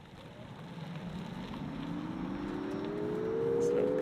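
A Nissan Ariya electric SUV accelerates hard in sport mode, a rising electric motor whine climbing steadily in pitch over road and tyre roar that grows louder throughout.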